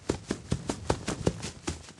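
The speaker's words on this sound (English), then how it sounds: "if Foxy runs, I'll be able to hear it and that will sound like this" Foxy's running footsteps in the Five Nights at Freddy's game, a rapid regular patter of about ten thudding steps over two seconds, close and clear with no speech.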